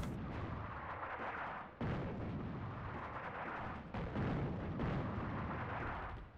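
Artillery fire in the war game Attack at Dawn: North Africa rumbles in heavy, continuous booming barrages, with several fresh salvos landing over a dense roar.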